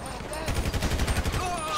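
A burst of rapid gunfire from a gang fight in the video game GTA V, a quick run of about a dozen shots in a row, fairly loud and close.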